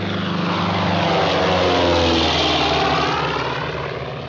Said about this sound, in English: plane to Lisbon.